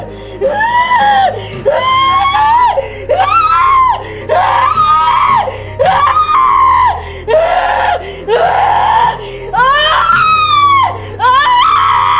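A woman in fear screams again and again in long, wavering, piercing cries, roughly a dozen loud bursts with short gasping pauses between them, close and alone.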